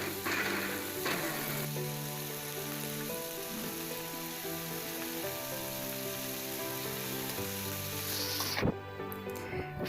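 Ginger garlic paste and crushed shallots frying in a pan for mutton biryani, a loud, dense, steady sizzle with occasional stirring scrapes and a sharp clatter near the end.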